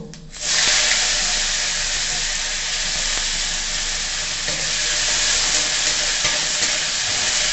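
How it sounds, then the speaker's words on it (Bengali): Cumin and onions drop into hot fish oil left from frying rohu, bursting into a loud, continuous close sizzle that holds steady to the end without talk. "ওই মাছের তেলেতেই একটু জিরে দিয়ে দেবো আর পেঁয়াজগুলো দিয়ে দেবো।"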